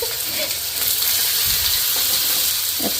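Potatoes hitting a very hot wok, a loud continuous hiss and sizzle close up with scattered crackles throughout.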